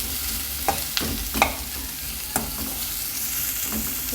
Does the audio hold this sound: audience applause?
no